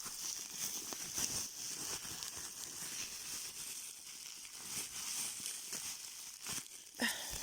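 Soft plastic crinkling and crumpling as chocolate from an advent calendar is unwrapped from its plastic packaging, with scattered sharper crackles and a brief louder rustle near the end, fairly close.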